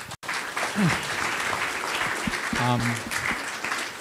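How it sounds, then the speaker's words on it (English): Audience applause following a presidential candidate's foreign policy speech, broad steady clapping through most of the stretch, with brief voices and a short tonal sound cutting in above it. "Please give Pak Prabowo rounds of applause."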